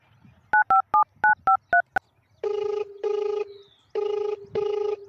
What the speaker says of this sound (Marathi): त्याला फोन लावतो